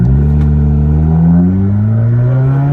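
A car fitted with a throttle response controller set to race mode accelerates hard, its loud engine drone climbing steadily in pitch as heard from inside the cabin.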